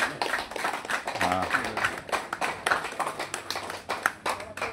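An audience at a community honoring ceremony in Nepal claps by hand, a dense patter of quick overlapping claps at moderate distance that rises and falls slightly throughout.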